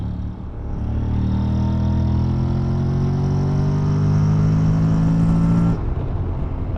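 A Honda Forza 750 maxi-scooter engine revs high as it accelerates, its tone climbing steadily and staying loud and close for several seconds before easing off near the end.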